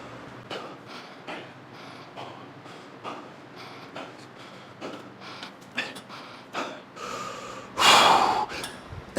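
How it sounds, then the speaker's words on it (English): Heavy, rhythmic gasping breaths with snorts and sharp exhales during a rest pause between quad training sets, loud and close, building to a harsh burst near the end, with no talking. "I'm gonna breathe for 10."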